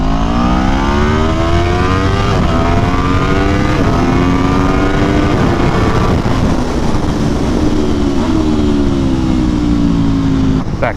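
A vehicle races in a virtual reality video game, its loud engine climbing and falling through repeated rev sweeps and gear changes, continuous and close for the whole stretch with no voices.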